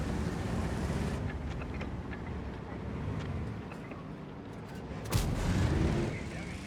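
A tank cannon firing a high-explosive shell that strikes its target in the World of Tanks video game, a booming blast heard over rumbling engine and ambient battle noise, followed by a sharper impact burst near the end.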